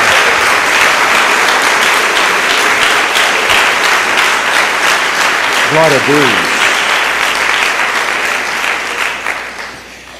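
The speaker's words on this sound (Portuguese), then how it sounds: "Dê uma salva de palmas ao Senhor" Church congregation clapping for the Lord, a steady loud wash of applause filling the space throughout, with a voice calling out briefly over it near the middle and the clapping thinning toward the end.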